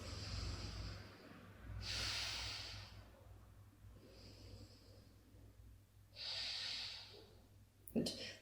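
Slow, deep breaths are drawn in and let out through the nose during a seated neck stretch, about three close, airy breath cycles over a faint steady low hum, ending in a short sharper breath.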